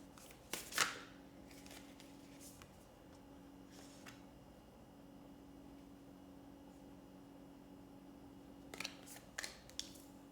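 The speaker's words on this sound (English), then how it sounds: "Let's reshuffle." Tarot cards being reshuffled by hand: a brief burst of riffling and snapping near the start, a few softer shuffles in the middle, and another quick cluster near the end, all over a faint, quiet room hum.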